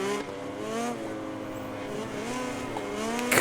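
A rival rider's motorcycle engine in the MotoGP 2020 video game, with a KTM racing nearby, wails at high revs. Layered, rising and falling engine tones whine steadily from close behind, and no one speaks.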